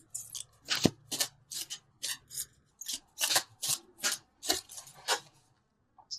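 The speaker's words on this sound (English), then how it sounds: "So let's pull a couple universal love cards." Tarot cards are shuffled and pulled by hand, a close run of about a dozen crisp, papery swishes and flicks in an uneven rhythm, fairly quiet, with no talking.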